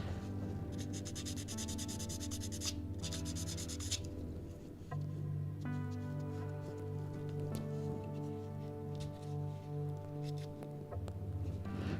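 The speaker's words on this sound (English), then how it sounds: "Alright, we're gonna sand that down pretty hard." Sandpaper rubs hard and steadily across a 3D printed part, a continuous close scratchy rasp that persists under a bed of sustained musical tones throughout.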